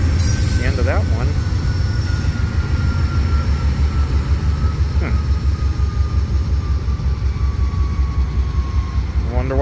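At a highland road crossing, a stopped train holds a loud, steady rumble with rhythmic mechanical throbbing, and a few brief squeals and tones rise over it. A voice is heard at moments.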